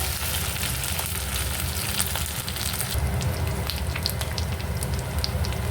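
Ginger frying in a pan for Bengali fish head rice (muri ghonto) gives off a steady, dense sizzle and crackle. It runs on without a break and with no talking.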